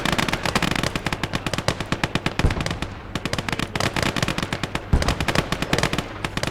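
Dense, rapid machine gun fire fills a World War II battle between Finnish and Soviet forces in the game Gates of Hell. Overlapping bursts and single shots crackle almost without a break, loud and close throughout.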